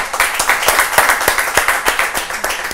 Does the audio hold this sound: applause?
yes